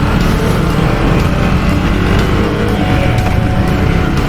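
A Husqvarna Svartpilen 250 motorcycle pulls away from a city traffic light, its engine roaring loud and close in a steady, rough drone with low rumble throughout and no speech.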